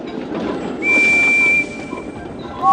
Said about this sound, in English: Which of these whistles is like Percy's?